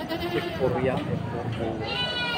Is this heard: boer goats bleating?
yes